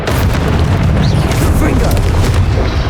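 A Confringo spell explosion in Hogwarts Legacy: a loud, sustained booming blast with a dense, rumbling roar that fills the whole moment, near and heavy, with no pause.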